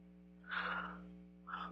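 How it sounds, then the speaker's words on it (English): A person yawns with a breathy, airy exhale that swells and fades, then a second shorter breath begins, close and quiet over a low steady hum. "yawning now, can you tell?"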